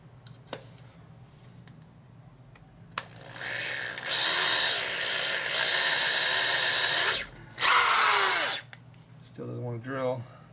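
Power drill boring into a part on a custom Harley chopper being rebuilt, two sustained high whirring runs of several seconds each, the second louder and sharper, with quiet workshop background and a brief voice near the end.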